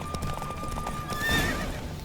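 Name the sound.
horse galloping in video game The Witcher 3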